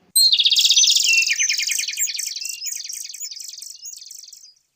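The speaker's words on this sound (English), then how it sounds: "We can hear the birds chirping sound in the morning and evening." A bird chirps alone in a quick, bright series of tweets that start loud and trail off gradually over about four seconds, with no other sound around it.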